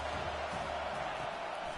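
A college football stadium crowd roars on third down during Mississippi State at South Carolina, a dense, unbroken wall of noise holding steady throughout.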